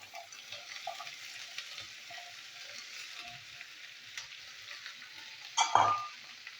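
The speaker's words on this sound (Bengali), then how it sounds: "এখানে আছে বিনস, গাজর, আলু, আমি একসাথে ভেজে নিচ্ছি।" Beans, carrots and potatoes fry together in a pan with a faint steady sizzle and light stirring, then a sharp metallic clank of the utensil near the end.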